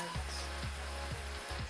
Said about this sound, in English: So just cover it and allow it to simmer for at least 5 minutes.